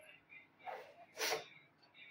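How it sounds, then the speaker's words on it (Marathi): A single sharp sneeze caused by dust in the nose, one loud burst rising from a faint breathy lead-in and standing out clearly over quiet room noise. "आणि शिंका अजून पण येतात"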